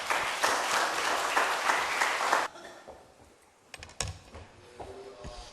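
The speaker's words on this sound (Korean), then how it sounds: "크게 박수로 환영해 주시면 감사하겠습니다." Applause at a Korean pastors' seminar in a church: a crowd claps loudly and steadily for about two and a half seconds, then it cuts off, leaving a quiet room with a few small knocks and handling noises.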